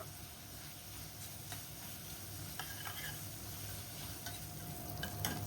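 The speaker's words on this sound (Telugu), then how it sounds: "ఇప్పుడు ఇందులోనే ఒక 2 రెమ్మల కరివేపాకు కూడా వేసుకుంటున్నాను." Garlic and curry leaves fry in hot oil for a tempering, giving a faint, steady sizzle with light stirring clicks and no talk.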